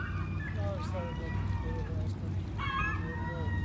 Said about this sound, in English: I don't know if you can hear all the gulls cawing in the background